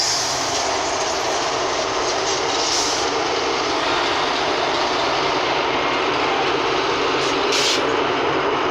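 A train hauled by locomotives 82152 and 90004 runs through Norwich on the Great Eastern Main Line, a steady loud rumble of wheels and carriages rolling past close by, with faint clicks and a brief squeal, no talk.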